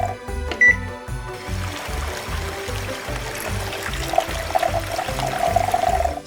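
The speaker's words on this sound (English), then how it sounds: "Pour gasoline into the tank." Gasoline pours into the tank of a LEGO gas station, a close trickling liquid sound layered over a rhythmic beat of background music, building slightly toward the end.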